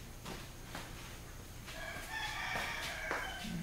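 A rooster crows at a distance outdoors in the Philippines, a drawn-out call rising over soft background noise, with faint clucks and ambient sound around it.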